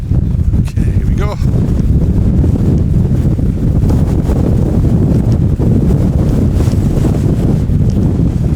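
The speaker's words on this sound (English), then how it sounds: "the wind does seem to be coming from that direction" Strong wind roars across a Lake District mountain fell, buffeting the microphone in loud, constant low rumbles, while a voice speaks beneath the gusts.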